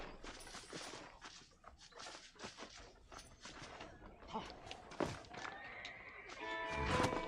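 In Red Dead Redemption, a horse whinnies and snorts amid clip-clop hoof sounds and faint game ambience, fairly close and brief, with a short whinny near the end.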